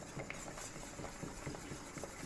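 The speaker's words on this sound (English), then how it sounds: "Let's whisk that in." Cranberry sauce being whisked in a pan on the stove, giving a steady run of soft scraping and light clinking strokes at close range, with no talk.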